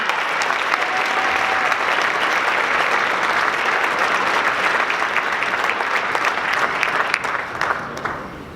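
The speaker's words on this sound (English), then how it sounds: "Let's give them a round of applause" Sustained audience applause at a violence prevention panel event, dense and steady throughout before thinning slightly at the end, with no talk over it.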